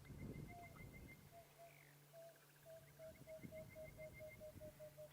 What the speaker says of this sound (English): there's a southern boo-boo calling